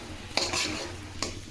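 A spoon scrapes through masala frying in a pan, two short clinks against the metal over a low steady sizzle.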